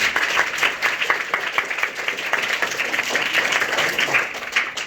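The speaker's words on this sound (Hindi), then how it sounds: "एक बार बच्चे के लिए जोरदार ताली बजाइए" An audience gives a hearty round of applause for a child, many hands clapping in a loud, dense, steady burst that stays even for several seconds with no talk over it.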